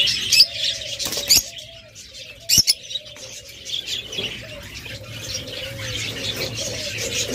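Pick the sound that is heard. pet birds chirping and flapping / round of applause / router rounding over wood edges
pet birds chirping and flapping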